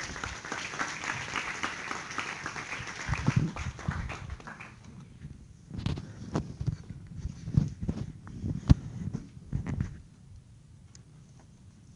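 Lecture hall audience applauds a speaker at an engineering lecture, a brief burst of clapping that thins out into scattered claps and room noise, moderately distant.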